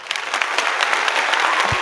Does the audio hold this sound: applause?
yes